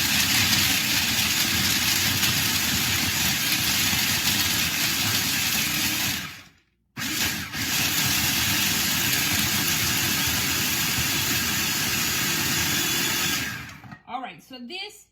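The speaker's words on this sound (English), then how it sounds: "we are going to pulse these until we crush them up into a fine crumb" Food processor pulsing almonds into fine crumbs, two long loud whirring bursts separated by a brief stop, then the motor cuts off and a few rattles follow.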